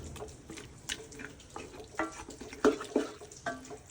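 Purified water is poured into a chicken curry cooking in a pan, a close trickling splash mixed with faint sizzling and stirring clatter, with no talk.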